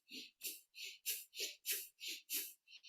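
Rapid breath of fire through the nose: about ten quick, sharp nasal huffs in a steady, fast rhythm, close and fairly soft.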